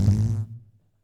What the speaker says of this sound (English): Stop farting.